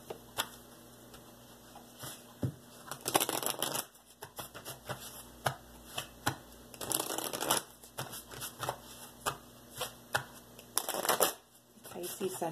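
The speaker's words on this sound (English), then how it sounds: "I'm now going to grab some oracle cards for you." A deck of oracle cards being shuffled by hand, with close riffling and flapping bursts repeating in an irregular rhythm over a quiet room hum, a voice speaking now and then between them.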